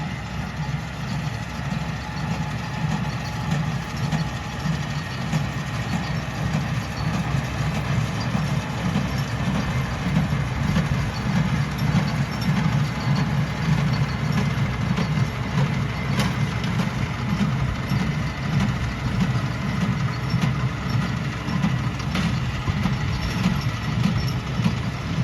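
A hay baler runs behind a tractor in a hayfield, a continuous low mechanical rumble and churning drone heard from a moderate distance, steady for about twenty-five seconds with no talk.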